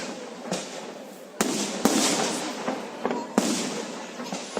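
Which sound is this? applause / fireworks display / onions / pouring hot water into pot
fireworks display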